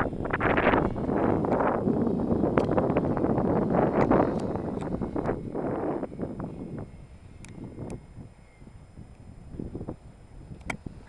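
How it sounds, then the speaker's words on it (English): Very heavy wind buffets the microphone outdoors at a flying field for a small 3S A123-powered model with a 5x7 propeller, loud rumbling gusts that roar for several seconds, then ease into quieter intermittent buffeting with faint clicks. "Conditions are extremely windy today."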